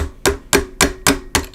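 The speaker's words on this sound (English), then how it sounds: "yeah, I definitely need a hammer for this." A hammer strikes six sharp, ringing blows at a steady pace about a quarter second apart, close and loud with no speech, during a sewing project.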